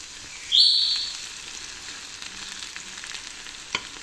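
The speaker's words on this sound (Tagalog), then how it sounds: "Kasi piniprito ko pa yung talong." Eggplant frying in a pan with little oil, a soft steady sizzle with a brief high squeal near the start and a faint click later.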